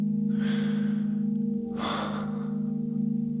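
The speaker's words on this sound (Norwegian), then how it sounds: "trakk han pusten dypt inn og ut" A man draws a deep breath in and then lets it out, two soft airy breaths standing alone over a steady low background hum.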